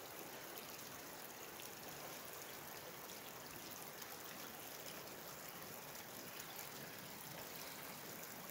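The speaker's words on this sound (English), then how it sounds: "you see it bubbling right out of the ground right there." Karst spring water bubbling up from the ground at a cave outflow in Logan Canyon, a steady broadband rush and trickle that stays close and even throughout, with no talk.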